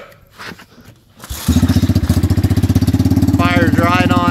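An ATV engine fitted to a golf cart cranks after a few quiet handling sounds, then settles into a loud, steady, close idle with an even pulsing rhythm.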